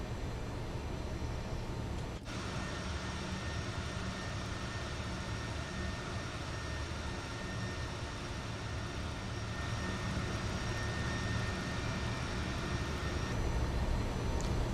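Steady, loud aircraft engine drone from a simulated plane on the runway for takeoff in Microsoft Flight Simulator 2024 at Telluride, holding constant with a brief click near the start and no speech.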